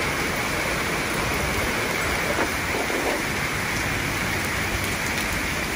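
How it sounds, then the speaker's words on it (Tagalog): Heavy rain pours down steadily outside a house in Canada, a dense, constant wash of hiss and drops that stays loud and unbroken throughout with no talking. "Malakas yung ulan."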